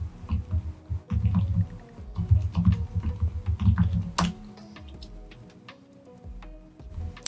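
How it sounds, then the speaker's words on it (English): Password being typed on a computer keyboard while connecting to an Azure virtual machine: a steady run of close, crisp key clicks with brief pauses, then a quieter stretch near the end. "Now I'm typing in my password."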